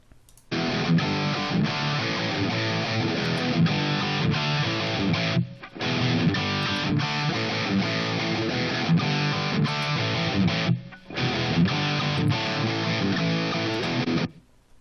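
A distorted electric guitar mix plays the same riff in short sections, once before and once after EQ in the Reaper DAW, with brief silent gaps between the loud, dense passages.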